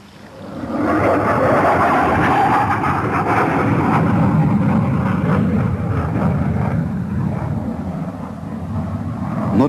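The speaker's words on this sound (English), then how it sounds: "this jet has just flown past a tower fitted with smoke generators" A jet aircraft flies past a tower fitted with smoke generators, a loud broad roar that swells quickly and holds steady for several seconds before easing slightly, with no talking.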